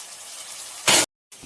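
Cooked horse gram dropped into a pan of frying onions, a short loud splashy hiss after a steady background sizzle, then a sudden cut to silence and the sizzle returning.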